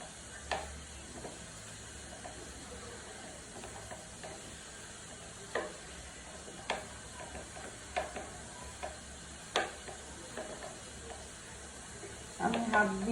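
Hot potato wedges are mixed and cooked in a pan, giving faint sizzling with scattered soft clicks and scrapes of stirring, ending in a brief busier burst.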